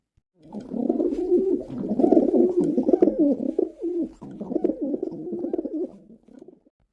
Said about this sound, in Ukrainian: давайте з вами послухаємо, як воркують голуби